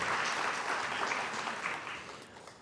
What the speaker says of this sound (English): Please join me in giving a round of applause for those donors who have invested in this museum and made today possible.